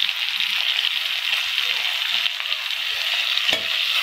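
Tomatoes sauté in a pan for potato kurma, giving a loud, continuous close-up sizzle with faint stirring scrapes underneath and no break in the frying.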